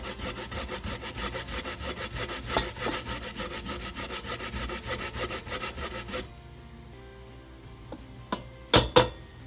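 Fresh ginger rubbed against a grater over a pot, giving a fast, steady rasping rhythm of close strokes that runs for about six seconds, then stops, followed by a few sharp knocks and clunks.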